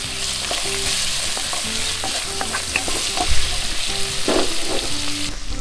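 Tomatoes stirred and fried in a pan outdoors for a backyard Filipino pork and jackfruit dish: a continuous loud sizzle with repeated scraping and clacking of a utensil against the pan, no talking.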